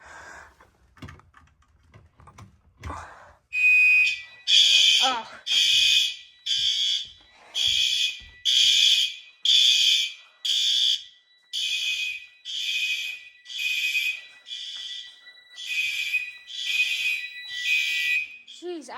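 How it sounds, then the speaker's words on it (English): Fire alarm horns sound during a monthly all-systems test of a basement alarm system: about fourteen loud, harsh, evenly spaced blasts from two high-volume horns mounted side by side, preceded by a few clicks and a brief exclamation. "Jeez, I forgot how loud those horns next to each other were."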